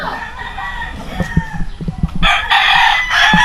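Several roosters crow loudly and close by. Lower clucks and scattered knocks come first, then a long, strident crow takes over for the rest of the moment.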